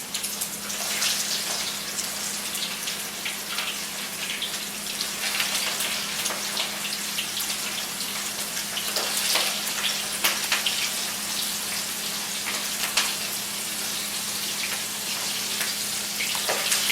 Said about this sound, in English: as I drop those in and they're cooking